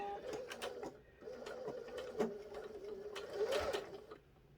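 A sewing machine back-stitches a small lip balm pouch, its rapid mechanical stitching running in short bursts with brief pauses and a louder run near the end, close and clear.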